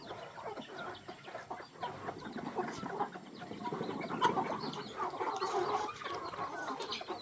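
Chickens and chicks cluck and peep together in a rural farmyard, a busy overlapping chorus of short calls that grows slightly louder toward the end.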